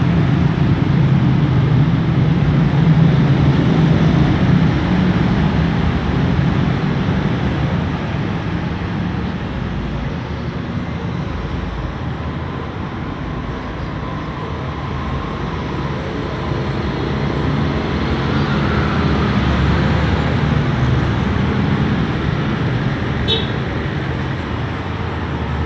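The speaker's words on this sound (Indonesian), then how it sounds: "Tampak sekali di sini arus lalu lintas sangat padat" Heavy road traffic streams through the Canguk junction in Magelang, Indonesia, as a dense, continuous rumble of cars and motorbikes that swells and eases slightly over time, heard up close in open air.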